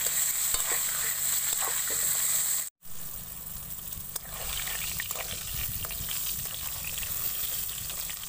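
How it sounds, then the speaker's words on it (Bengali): Pointed gourd (potol) with turmeric and salt fries in a pan, an even sizzle with stirring clatter, briefly cut off partway and then resuming. "পটল আমি ভালো করে ভেজে নিয়েছি"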